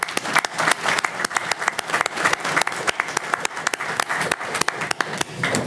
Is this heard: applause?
yes